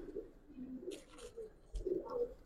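Old-breed gribaz pigeons coo in a loft, soft low murmuring coos rising and falling over about two seconds, with a few brief higher calls and faint background noise.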